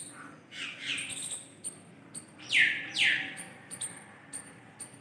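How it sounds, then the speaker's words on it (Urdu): Spring birds chirp and call outdoors in a lively scatter of short tweets, with two louder descending whistles standing out over faint background song. "پرندوں کی آوازیں"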